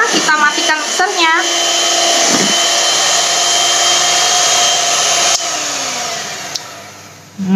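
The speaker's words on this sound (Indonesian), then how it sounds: "setelah rata, kita matikan mixernya" An electric hand mixer beating chocolate potato cake batter gives a loud, steady whirring hum up close, with a few clicks at the start and a drop in pitch as it is switched off near the end.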